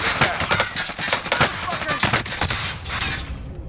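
Sharp, irregular volleys of gunfire crack through a Call of Duty Warzone Resurgence firefight, loud and close, with faint voices underneath.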